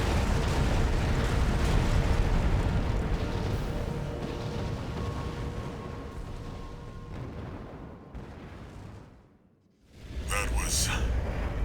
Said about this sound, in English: It's gonna blow. Brace for impact.